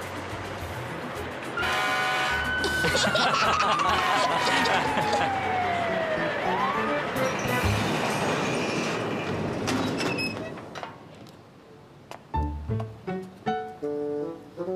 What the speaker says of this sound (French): Il déclenche la sirène qui est sur le toit du camion.